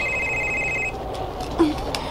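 A cellphone rings with a bright electronic tone for about a second, then stops, leaving quiet room noise and a faint blip.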